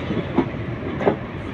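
Bundelkhand Express passenger train rolling along the rails, heard from inside a general coach as a steady low rumble with two faint wheel clacks.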